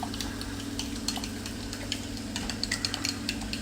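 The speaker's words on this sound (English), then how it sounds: "I'm just going to grab a little spoon and we're just going to give that, mix it up" A little spoon stirring a pasta sauce base of peppers and black pepper in a pan, soft repeated scraping and clinks over a steady low hum, with no one talking.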